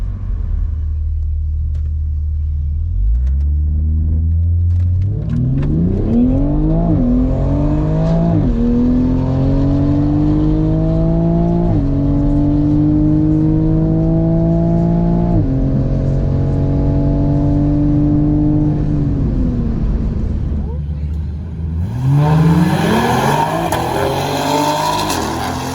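Stock 2020 Toyota GR Supra launching at a track day: a loud engine roars through a long run of rising gear pulls, with brief dips at each shift, then drops away into wind and road noise near the end.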